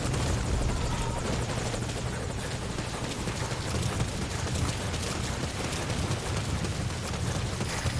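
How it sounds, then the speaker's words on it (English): A helicopter in the video game Metal Gear Solid V: Ground Zeroes hovers at a landing zone, a loud, continuous rotor thump and engine roar filling the whole stretch with no talk. "If you get on that chopper, you'll be aborting the mission."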